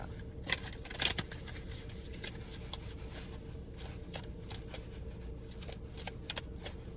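Tarot cards are shuffled at close range, a soft, steady papery riffling with a few sharper snaps, over a faint background hum.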